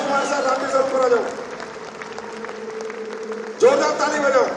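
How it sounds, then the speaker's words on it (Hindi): Audience clapping for honorees at an anniversary event, a steady wash of applause running beneath a voice speaking over a microphone throughout. "जोरदार ताली बजाओ।"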